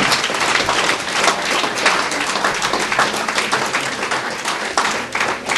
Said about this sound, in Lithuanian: Audringi aplodismentai.